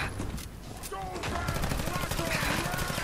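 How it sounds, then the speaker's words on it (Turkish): Incendiary-ammo gunfire aimed at a Mirelurk Queen in Fallout 4 crackles in a steady rapid stream of shots at moderate loudness, mixed with game effects and someone talking over it. "Yakan mermiyi boşaltalım üstüne biraz daha."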